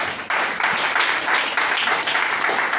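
A church congregation at a service gives loud, dense, sustained applause that starts abruptly and stays even and close throughout.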